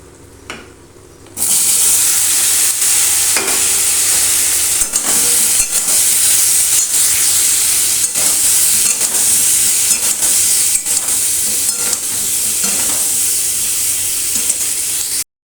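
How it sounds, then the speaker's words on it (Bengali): Black cumin and chili fry in hot oil with salt and turmeric, a loud, steady sizzle that bursts on suddenly and holds with crackles and scraping stirs. "কালো জিরে আর লঙ্কাটা ভেজে নিয়ে তারপর আমি এর মধ্যে লবণ দিয়ে দেবো"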